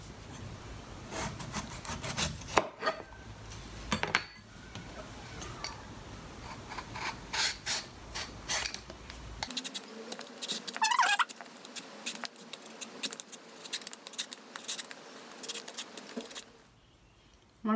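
An imported mango being peeled for chutney, with repeated close scraping and rubbing strokes of the peel coming away, steady and unhurried, and no one talking.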